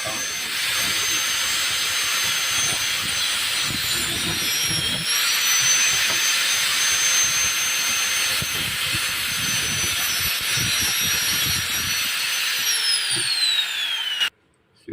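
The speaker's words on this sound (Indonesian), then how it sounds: "Kita gerinda dulu. Kita potong." An angle grinder whines steadily at a high pitch for several seconds while cutting metal, with the sound stopping abruptly near the end.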